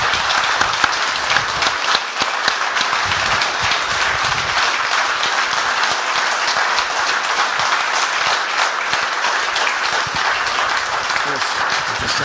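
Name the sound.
audience applause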